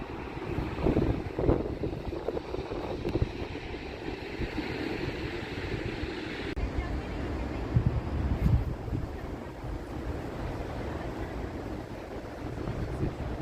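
Strong, blustery wind at a coastal point where two oceans meet, roaring continuously across the microphone in heavy gusts with a broad rumbling wash, loud and close, with no clear talk.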